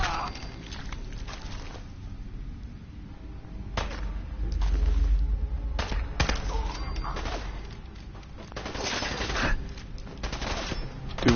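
Gunfire in a Fallout game, scattered shots and bursts spread across the stretch with quieter gaps between them, some loud and close and others more distant, over steady background noise and low rumbling.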